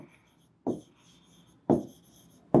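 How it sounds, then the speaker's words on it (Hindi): Handwriting during a lesson on homogeneous and non-homogeneous partial differential equations, with three distinct scratchy strokes spaced about a second apart against near silence. "अब यहाँ पर लिखेंगे"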